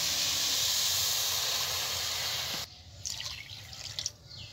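Water poured onto sugar in a pan for sugar syrup, a steady close hissing pour that stops abruptly partway through, followed by faint clinks and small sloshing sounds.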